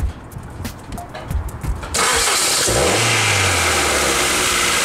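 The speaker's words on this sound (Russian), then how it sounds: "Запуск двигателя." A Ford 1.6-litre Duratec engine from a 2002-2012 Fusion cranks and catches after a quiet moment, then settles into a steady loud running roar.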